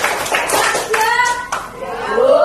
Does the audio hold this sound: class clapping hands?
yes